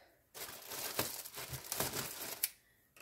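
Packaging from a skateboard parcel crinkles and tears as it is unwrapped close by, with bursts of rustling and sharp crackles for about two seconds, then quiet.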